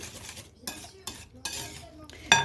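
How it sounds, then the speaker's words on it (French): Brioche dough ingredients with white vinegar are mixed in a bowl, producing bursts of scraping and clinking from a spoon or whisk separated by brief pauses, ending in a sharper clink. Nobody speaks. "Voilà, je mélange très bien."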